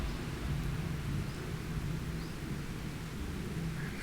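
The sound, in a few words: rain falling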